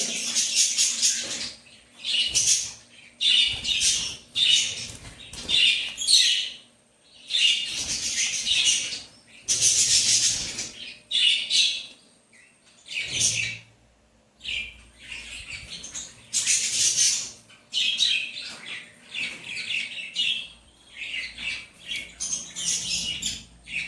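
Baby birds nesting inside a clay pot squawk and chirp in shrill, close bursts, repeated calls clustering in rapid flurries separated by short silences.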